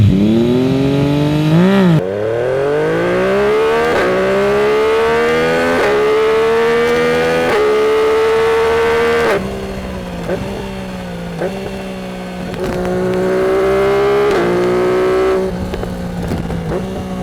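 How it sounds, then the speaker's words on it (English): A Yamaha MT-09 Gen 2 motorcycle engine with an aftermarket exhaust revs hard and close, pitch climbing through several long pulls with brief drops between shifts, loud and continuous with no talking. "You can hear all the brilliant noises coming out of this motor."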